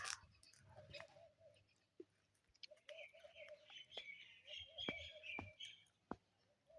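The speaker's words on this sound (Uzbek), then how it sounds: "Qushlar ovozi eshitilyaptimi azizlar, qushlarni?" Soft birdsong in a village yard with scattered thin chirps and trills, fairly faint and distant, mixed with a few sharp clicks in a quiet outdoor setting.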